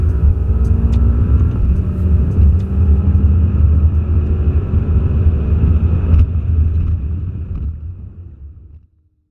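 A BMW M6 Competition Package with 575 hp accelerating hard from a launch, a loud, sustained low engine roar that holds for several seconds and then fades away at the end.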